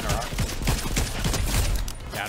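Rapid bursts of gunfire in a shooter video game, a dense rattling volley of sharp shots repeating quickly over a couple of seconds, close and loud.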